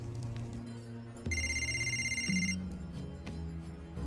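A telephone rings with a bright electronic tone for about a second, standing out clearly over a low, steady background.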